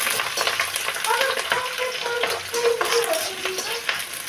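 Onions sizzle and crackle in a pan for a breakfast pasta while being stirred, a close, steady frying hiss with scraping stir sounds throughout.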